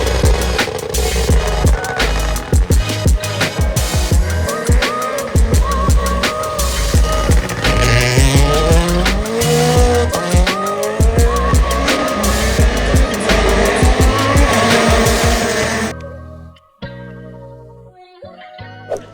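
Rally cars race through the Okazaki special stage at WRC Rally Japan, loud engines revving and rising in pitch as they pass close by, with tire noise. The roar cuts out near the end, leaving quieter background sound.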